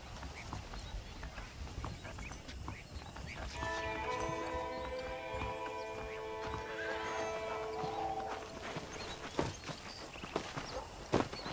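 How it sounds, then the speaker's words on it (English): A horse in the video game Red Dead Redemption whinnies in a long, wavering cry over hoof clip-clops and ambient outdoor sounds, with more hoofbeats and scattered clatter afterward. "The horses are saddled up over here."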